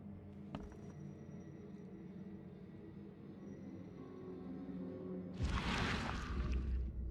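Train passing in The Sinking City, a low steady rumble of rolling rail cars that swells into a loud rushing whoosh near the end, with no talk over it.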